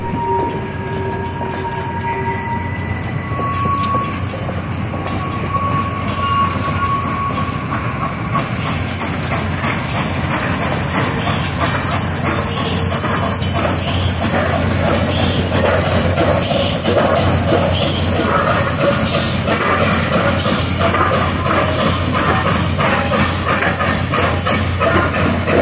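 Reading and Northern steam locomotive 2102 rumbles steadily close by in Pittston, with rhythmic chugging and clanking wheels and a brief whistle-like tone early on, continuous throughout.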